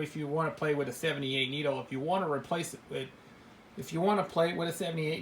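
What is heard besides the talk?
No everyday noise stands out behind the speech.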